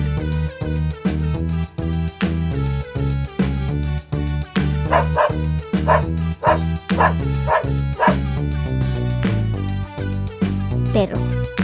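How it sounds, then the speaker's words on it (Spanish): A dog barks in a children's animal sounds lesson, a run of repeated short barks and yips over steady background music, fairly loud and close. "Hoy vamos a aprender cómo se escribe y hace el perro."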